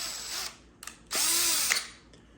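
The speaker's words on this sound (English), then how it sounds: "now the back, I want to drill ream it for the 3" A power drill reams a hole in a small part for a 1/6 scale tracked bulldozer model, two short whirring bursts with a brief pause, the second longer with a pitch sweep as the bit bites, close and alone.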